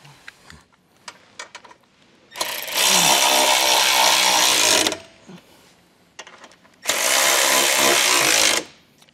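Two long bursts of a power tool tightening the 16 mm bolts on a Roadmaster Direct-Connect base plate for a 2022 Jeep, each running steadily for about two to three seconds, with small clanks and handling noises between them.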